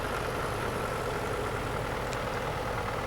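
Vintage Massey Ferguson tractor ticking over at idle, a steady close mechanical rumble with slight knocking texture and no voices.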